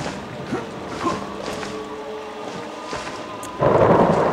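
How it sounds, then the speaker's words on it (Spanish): Thunder rolls and cracks in the horror game Outlast over a bed of rain, with sharp strikes scattered throughout and a louder, fuller rumble at the end. "Pinches truenos están con todo."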